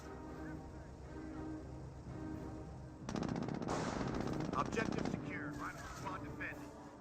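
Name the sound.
machine gun firing in the video game Company of Heroes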